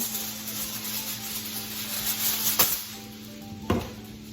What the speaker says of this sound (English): I'm gonna take aluminum foil